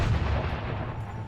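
Grenade blasts in Crackdown 2 land as a dense, loud rumble of booming explosions with no pause, filling the short stretch without any voices.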